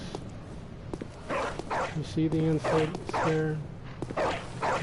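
A dog barking in Bloodborne, heard as several yips and barks in short groups at moderate distance, with someone talking over and between them.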